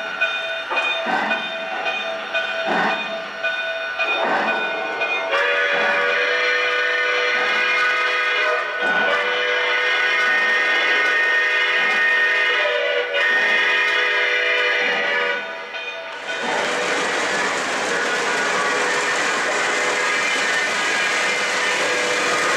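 A Dreyfus Hudson model locomotive sounds its whistle in a series of short tonal blasts and longer held notes, then gives way to a loud, steady broadband hiss of steam for the final stretch.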